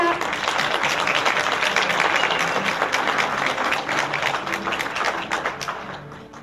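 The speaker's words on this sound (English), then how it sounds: "Let's give these guys one more hand clap." A church congregation claps for graduating seniors, a steady, dense round of applause that fills the room for about six seconds before fading slightly at the end.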